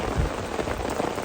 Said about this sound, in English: Just rain, does it stop or not?